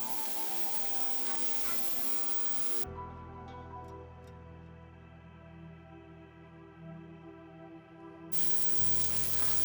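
Romanesco sautéing in olive oil in a pan, a steady broadband sizzle that drops to a quieter hiss midway and swells back up near the end, close and continuous with no talking.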